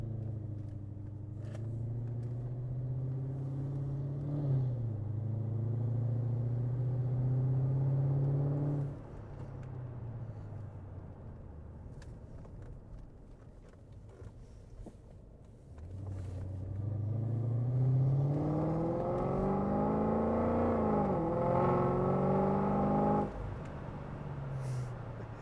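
Modified Mercedes-Benz E55 AMG engine on a late-night drive, a deep loud rumble rising and falling through two long acceleration pulls with a lighter cruising stretch between them.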